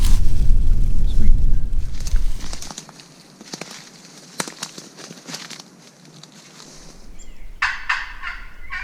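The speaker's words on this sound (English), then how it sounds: "I just called and the bird gobbled." Wild turkey gobbling in answer to a hunter's call from a field on public land, heard as bursts at a distance against outdoor background noise.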